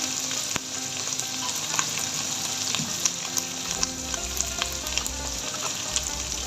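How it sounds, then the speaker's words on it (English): Ginger garlic paste and green chili paste sizzling hard in a hot pan, a loud, continuous frying crackle with scattered pops while being stirred, up close and without talk. "at that point we'll be adding ginger garlic paste with the green chili paste. So mix it a little bit"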